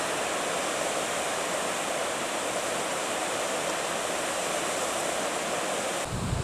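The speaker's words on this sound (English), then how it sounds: "A nice little waterfall" Continuous rushing water from a small waterfall in Kaimai Conservation Park, a dense, even roar with no pauses, close and fairly loud.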